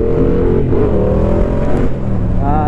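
A Yamaha Tracer 700 motorcycle engine drones loud and steady at high revs, then drops in pitch as a gear is shifted, its tone shifting and settling again close by.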